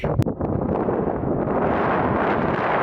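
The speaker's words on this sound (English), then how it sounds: "I apologize for the wind noise" Strong wind buffeting a microphone at high elevation in Ecuador, a constant loud rumbling roar with gusty fluctuations and no voices.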